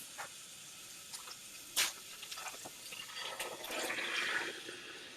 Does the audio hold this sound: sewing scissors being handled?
no